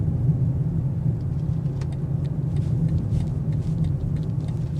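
A 2026 BMW M5 Touring super-wagon with 717 horsepower drives along, its engine a steady, dense low rumble with road noise throughout, loud and close, with no voices.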